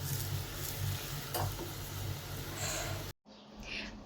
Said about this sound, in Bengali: আরেকটা তরকারি বসাই দিলাম এটা যে শুধু ট্যাংরা মাছ